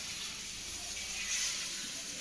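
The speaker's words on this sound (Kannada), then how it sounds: "ಆ ಪ್ರಿಪೇರ್ ಮಾಡಿರೋ ಹಿಟ್ಟನ್ನ ನಾನು ಈಗ ತವ ಮೇಲೆ ಹಾಕ್ತಾ ಇದ್ದೀರಾ?" Rice dosa batter hisses softly on a hot tava, a faint, continuous sizzle that swells briefly midway, with no voices over it.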